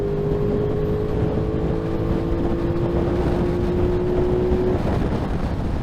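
Aprilia Tuono 660 Factory Edition motorcycle at full throttle in sixth gear near 80, a steady loud engine drone with a sustained rising whine under heavy wind rush, heard from on the bike.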